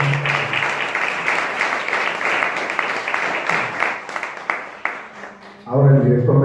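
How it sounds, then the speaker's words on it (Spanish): Audience applause at a transparency and data protection diploma session honoring a doctor, a steady dense clapping that continues for several seconds before a voice begins speaking near the end. "Les pido, brindemos un caluroso aplauso."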